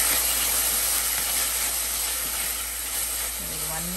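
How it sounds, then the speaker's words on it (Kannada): Chopped onion and tomato frying in a pan for sambar, giving a steady, close sizzling hiss that holds evenly throughout with no breaks. "ಒಂದು ನಿಮಿಷ ಇದನ್ನು ಹುರ್ಕೊಳ್ಳೋಣ."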